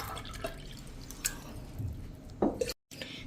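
Water is added to fafda gathiya batter: a few wet drips and squishy splashes land in short bursts, with one louder splash near the end before a brief cut.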